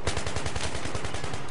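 Rapid automatic gunfire in the video game Battlefield 3, a steady machine-gun burst of evenly spaced sharp shots rattling loud and unbroken from start to finish.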